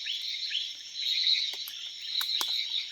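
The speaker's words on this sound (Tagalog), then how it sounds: "Kuliglig po yan." Steady high-pitched cricket chirring fills the air without pause, with a few faint clicks and snaps on top; no voices, a calm night ambience in a forest in Quezon, Philippines.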